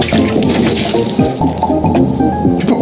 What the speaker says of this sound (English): So fill with water, correct?